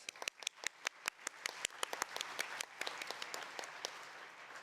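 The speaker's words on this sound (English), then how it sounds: "let us give them a final round of applause for their excellent talks" Applause from a science congress audience after keynote talks, sharp individual claps at first that quickly thicken into a steady round of clapping before thinning out.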